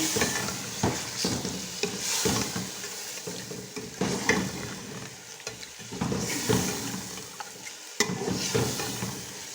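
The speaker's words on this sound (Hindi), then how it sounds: "अच्छी तरह से भून लेंगे।" Hyderabadi mutton haleem mixture sautéed in a pot, with repeated scraping stir strokes over a steady, close sizzle and no talk.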